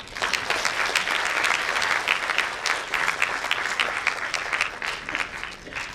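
An audience at a school annual concert applauds in a steady, full wash of many hands clapping at once, sustained and fairly loud throughout with no talk over it.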